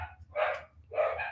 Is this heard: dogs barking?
yes